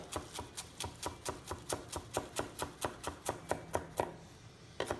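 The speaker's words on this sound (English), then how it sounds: "Fold it up tightly. Slice it very thinly." Knife chopping fresh parsley on a cutting board, a steady run of about twenty crisp, evenly spaced taps that fall close and clear, with a short pause near the end before one final cut.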